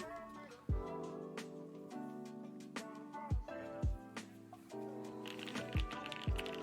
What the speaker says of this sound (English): the board already sounded pretty good, but having that with these keycaps, amazing sound